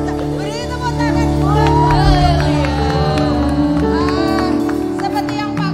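Church congregation at a pastor's birthday worship service in Indonesia breaks into cheering and shouting, voices rising loud and lively, with a speaker's voice also heard amid the noise.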